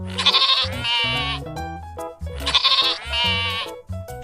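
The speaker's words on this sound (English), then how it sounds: "Sheep. Sheep can recognize familiar faces for years." Sheep bleating in two long, wavering calls separated by shorter bleats, close and loud, with no talking.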